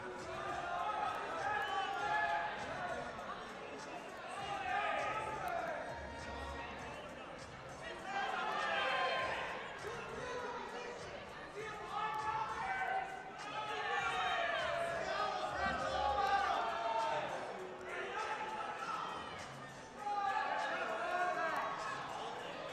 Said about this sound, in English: Hearing a lot of buzz from that crowd again for a stall call against him.